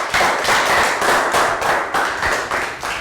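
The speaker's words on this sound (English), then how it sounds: "High five and round of applause for Lakgao." A Year 3 English class claps for a classmate, a steady round of quick, close hand claps that keeps its pace for a few seconds with no voices over it.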